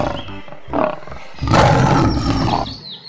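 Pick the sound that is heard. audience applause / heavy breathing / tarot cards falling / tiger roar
tiger roar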